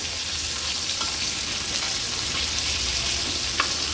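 Karli fish pieces fry in oil on a flat tava, giving a continuous, even sizzle up close with a faint clink near the end.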